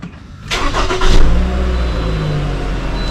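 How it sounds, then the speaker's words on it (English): A 2010 Toyota RAV4 engine cranks briefly and catches loudly, then settles into a steady, close idle hum. "I'm going to start up the vehicle."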